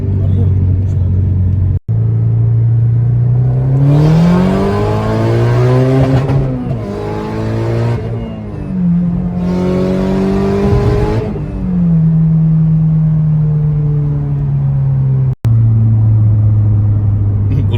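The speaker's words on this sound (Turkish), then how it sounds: "Bir sesini duyalım bir gazlayalım usta" A Mazda RX8 with a swapped K24 turbo engine idles with a deep rumble, then is revved in several loud rising bursts that fall back to idle, close by, with no talk over the revs.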